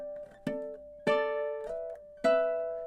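Measure 6 of a riff played on ukulele: three clean plucked notes, each struck crisply and left ringing, spaced evenly and heard alone at close range.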